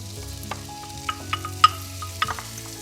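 Shallots fry in butter in a pan with a soft sizzle and a few light stirring clicks and taps, close and fairly quiet, with no one talking.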